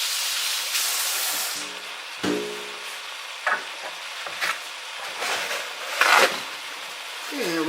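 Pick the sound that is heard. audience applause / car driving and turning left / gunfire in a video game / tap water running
tap water running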